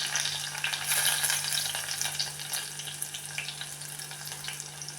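Garlic and ginger frying together in coconut oil for a dried-fish prawn curry, a dense continuous sizzle close by, louder at first, then settling with light stirring sounds; nobody speaks.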